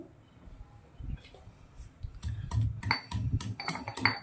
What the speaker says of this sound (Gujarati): મરી દાણા જીરું અને લસણ આવી રીતના વાટી લેવાનું છે ખલના અંદર મસ્ત વાટી